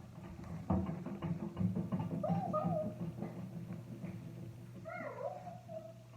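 House cats meow several times, with rising and falling cries coming through over background noise and a thumping knock early on.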